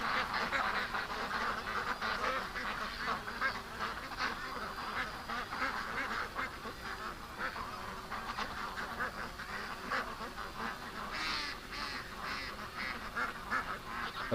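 Ducks quacking around a yard, a continuous overlapping chorus of calls at moderate distance that swells and thins over a long stretch, with no talk.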